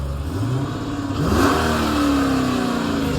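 A cammed 5.7 HEMI V8 engine revs up from a rumbling idle, rising in pitch and then holding a throaty drone, loud and close with no talking.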